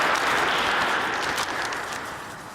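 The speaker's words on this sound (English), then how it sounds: "Let's give him a round of applause." Audience applause at a march and gathering honoring Dr. King on MLK Drive, a steady dense wash of clapping that stays loud throughout and tapers slightly toward the end.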